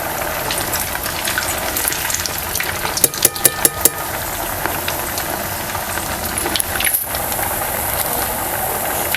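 A dish fries in hot oil with a continuous bubbling crackle, a burst of sharp clicks and scrapes partway through as pieces are moved, then steady sizzling again to the end.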